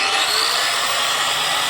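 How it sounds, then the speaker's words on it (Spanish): An angle grinder whirs steadily at a high pitch throughout, close and loud, a continuous hissing motor whine with no talking. "Encenderíamos la radial."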